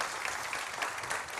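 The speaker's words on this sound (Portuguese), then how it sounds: "Uma salva de palmas para o seu pastor, pastor Jacques, para a sua pastora, a pastora Kemi." A church congregation claps for its pastor and his wife, a steady, dense patter of hands filling the hall at moderate volume with no voices over it.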